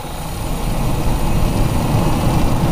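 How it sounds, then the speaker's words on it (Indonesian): A carbureted Toyota Kijang Super engine is revved up from idle, its loud rough roar swelling after the first half-second and holding steady close by. "Saya gas biasa ke RPM tinggi."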